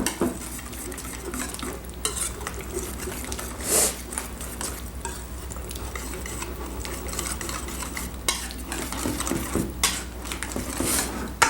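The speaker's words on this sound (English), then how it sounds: "And whisk it all together." A whisk beating grilled chicken marinade ingredients in a bowl, a steady stream of rapid clinking and scraping strokes that runs continuously, close and moderately loud, with no talking.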